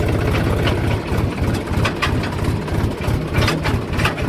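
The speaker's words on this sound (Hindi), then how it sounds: "तीसरे के हिसाब से झटके मार रहा है ट्रैक्टर" A tractor engine labours in third gear with a heavy, throbbing low rumble and uneven surges, running steadily and close throughout with no talking.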